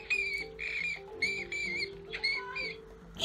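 A person imitates a bat with a run of high, thin squeaks in short bursts, roughly five or six chirping calls spaced across a few seconds, fairly quiet and close.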